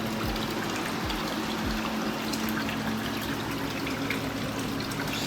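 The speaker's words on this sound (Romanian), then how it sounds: "Și uite că pompa merge, dacă curge." Water from a cold plunge tub's pump flows and splashes in a steady, continuous trickling stream, with a low hum underneath and no talking.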